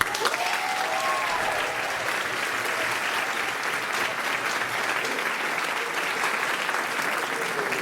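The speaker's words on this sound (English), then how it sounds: "Please give a huge round of applause to Alois Miller." Dense, sustained audience applause fills a spring concert tribute, steady and loud from start to finish with no voices over it.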